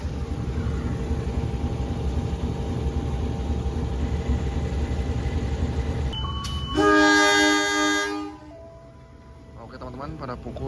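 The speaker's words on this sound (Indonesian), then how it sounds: "kereta api komuter lain Garut telah diberangkatkan dari stasiun Ciganea" A Garut line commuter train departs Ciganea station at night, its low steady rumble running throughout, with a loud multi-tone horn blast midway that cuts off sharply. Speech is also present over the rumble.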